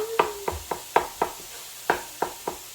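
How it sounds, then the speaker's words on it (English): Sausage is chopped into smaller bits in a pan as it cooks for sausage gravy, giving eight close, sharp knocks at an uneven pace, with no talking. "Just going to keep chopping it up until you get down to the size you want"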